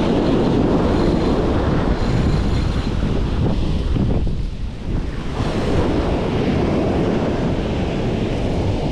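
Ocean surf breaks on an Australian beach as a steady, loud wash of waves with gusting wind noise against the microphone, no voices.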